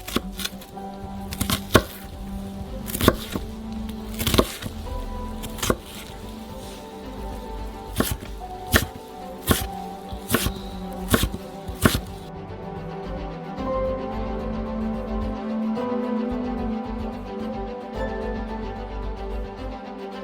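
Rapid knife chops dicing onions on a cutting board, a run of sharp close taps in uneven bursts, then quieter steady background hum as the chopping stops.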